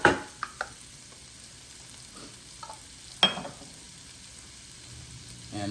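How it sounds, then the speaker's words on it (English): Celery sautéing in a Power XL cooker as part of turkey fried rice, a faint low sizzle under a few sharp clicks and knocks of utensils, close and quiet with no voices. "I'm gonna throw these celery in. Let all that saute nice and good."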